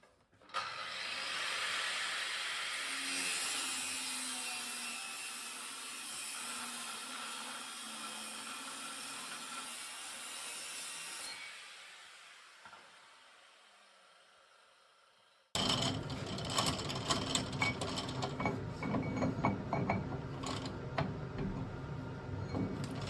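A metal pin turned on a lathe for a backhoe boom lift cylinder repair gives a steady broadband cutting whir that fades out, then gives way to louder clattering shop noise after a brief pause.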